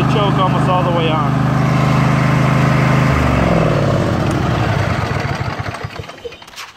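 A Briggs and Stratton 22hp OHV engine on a Craftsman riding tractor running on choke, loud and close with a steady drone that drops in pitch partway through, then winds down and fades toward the end.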